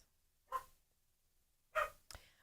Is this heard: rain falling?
no